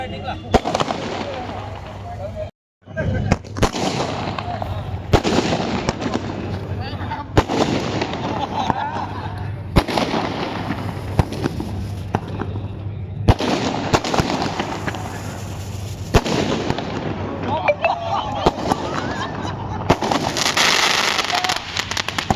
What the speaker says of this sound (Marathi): फटाक्यांच्या आतिषबाजीत या स्पर्धेचं उद्घाटन करतायत